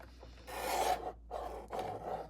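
A trimmer rasps against a thin sliver of material in two close bursts, the first longer and louder, then a briefer second pass, with quiet gaps between.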